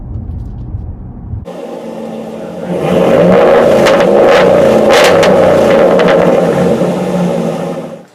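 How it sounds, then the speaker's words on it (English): Raw, unsupercharged engine exhaust growl from a Ram, Jeep or Dodge vehicle at a proving ground, opening with a low idle rumble, then a sudden loud snarl that swells into a sustained, gritty roar before cutting off, with no talking. "Just hear totally raw exhaust, no high-pitched whine. It's just all guts and growl."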